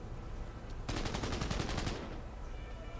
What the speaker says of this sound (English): This guy shooting, I guess